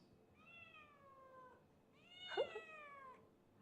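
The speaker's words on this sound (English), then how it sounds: "Before seeing the cat, I think everyone can hear his voice." A cat meows twice, a drawn-out cry followed after a short pause by a louder, slightly rising one, both close and alone with no talk.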